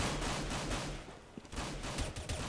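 Rapid gunfire from USP pistols in a Counter-Strike match on dust2, a busy run of sharp game shots and taps against steady background noise, with no speech.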